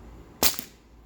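A single sharp crack from an Umarex Ruger 10/22 air rifle fired in a backyard, close and loud, followed by a faint second snap and quiet.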